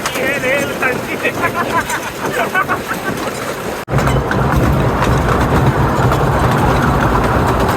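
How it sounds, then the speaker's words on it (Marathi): A train rushes past near Mumbai's Elephanta Caves with a steady loud rumble, while someone talks over it before it takes over completely. "आणि बघा ट्रेन गेली"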